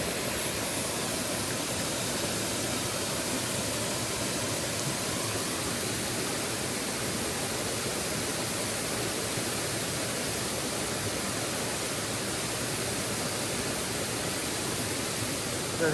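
A Thai forest waterfall roars steadily and loudly, a dense unbroken rush of falling water with no pauses and no voices over it.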